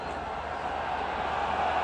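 Full-house cricket crowd at the National Stadium in Karachi, a steady distant murmur of many voices that stays even and moderately quiet throughout.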